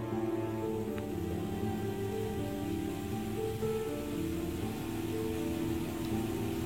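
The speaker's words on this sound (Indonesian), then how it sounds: "mendung tiba-tiba menggumpal dan membawa hujan yang perlahan membasahi bumi" Steady rain falls in a horror story soundscape, a constant dense hiss of drops with a low rumbling bed underneath, even and unbroken throughout.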